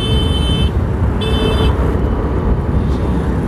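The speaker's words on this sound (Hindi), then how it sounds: "तभी से हॉर्न मार रहा है," A car horn honks in busy traffic, two short sharp blasts close by over a constant rumble of engines and road noise.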